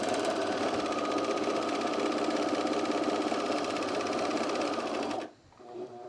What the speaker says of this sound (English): And then we're going to overlock this long edge.